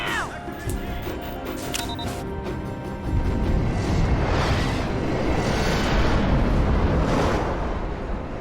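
A Battlestar Galactica ship's FTL jump effect in the TV movie Razor, with a sharp click and whoosh followed by a loud, rumbling burst that builds into a sustained explosive roar.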